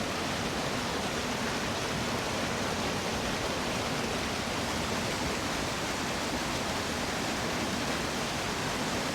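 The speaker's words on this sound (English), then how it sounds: "these waterfalls are very loud." Loud waterfalls along a Colorado back road, pouring out a dense, even hiss of rushing water that fills the whole stretch without pause or change, no talking over it.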